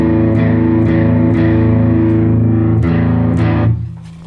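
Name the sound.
guitar distortion pedal with drive turned up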